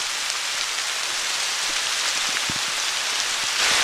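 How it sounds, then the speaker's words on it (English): A heavy rain shower falls on a hiking trail by a backyard on the Horseshoe Trail, dense steady patter of drops with a few sharper close hits, loud and continuous with no talking. "Probably the heaviest shower of the day."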